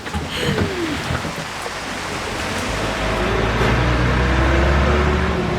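Torrential rain pours down during a stormy spell, a dense, steady hiss of heavy rainfall that swells louder toward the end, with low rumbling underneath and no voices.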